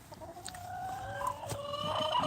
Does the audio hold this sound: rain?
no